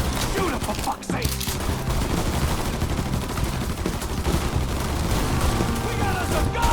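Dense gunfire crackles in Mafia III, with rapid automatic bursts and single shots rattling continuously alongside shouting voices.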